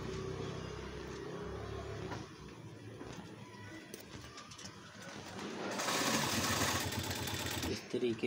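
A sewing machine stitches a seam over cord piping along a garment neckline. The steady mechanical hum runs throughout and grows louder and faster in a dense burst near the end, with some background noise.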